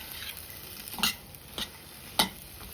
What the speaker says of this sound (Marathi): मी आता त्याच्यामध्ये फ्लॉवर आणि बटाटा टाकते मिक्स करून घ्यायचं आहे